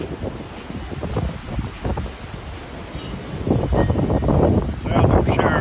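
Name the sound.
big wind gusts during a tornado around a treehouse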